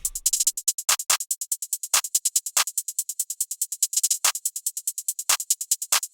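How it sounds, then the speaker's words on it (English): Layered hi-hats in an FL Studio beat tick in rapid, crisp succession, with faster rolls bunching the hits, punctuated by occasional brighter, heavier hits. Alone and upfront. "I then layered those hi-hats with more hi-hats, and I pretty much just added some normal rolls"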